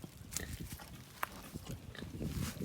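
Pig with piglets on a farm, scattered grunts, squeals and shuffling, moderately close and fairly quiet, with no talking.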